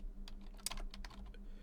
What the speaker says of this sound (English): so you'll hear a little bit of typing here.